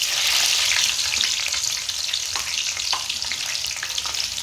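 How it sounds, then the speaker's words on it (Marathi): Slit green chillies frying in hot oil, a loud, dense and continuous crackling sizzle close by throughout, with faint stirring underneath and no talking. "आता आपण ह्या काही मिरच्या पोट फाडून घेतलेल्या आहेत आता आपण हे तळून घेऊयात"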